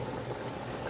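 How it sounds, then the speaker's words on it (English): A pot of water simmers on a stovetop with a steady, dense bubbling hiss and low rumble, close and continuous, with no voices. "Now we're going to turn it down and let that simmer."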